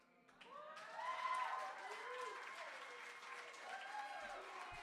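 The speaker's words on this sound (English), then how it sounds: "Keep that applause going for Be Right Word, everyone" Sustained crowd applause from a slam poetry audience at a Canadian individual poetry slam bout, a dense wash of clapping that swells near the start and then holds steady, with voices and whoops mixed through it.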